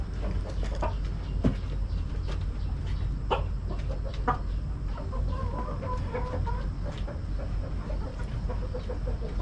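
Hens in a backyard coop cluck and chatter continuously at morning feeding, with scattered sharper calls over a low, steady background hum.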